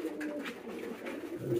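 A Huma pigeon and its chick give soft, low coos at close range in a brief, quiet burst.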